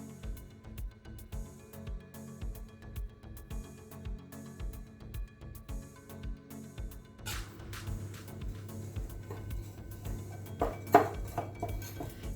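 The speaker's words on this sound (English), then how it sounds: "just put in all your dry ingredients and mix" Dry ingredients being mixed in a bowl for oven-baked chicken drumsticks, heard as steady clinking and scraping of a utensil against the bowl, rhythmic and close, growing busier midway with a few sharper knocks, no talking.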